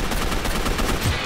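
Gunfire in the video game Gotham City Impostors, with sharp shots cracking in quick succession over a dense, steady layer of game noise, no voices.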